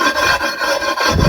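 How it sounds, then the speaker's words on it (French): A wet whetstone rubbing along the cut edges of a terrace pool paving slab, a loud close rasping scrape in quick back-and-forth strokes. "un petit peu limer les côtés"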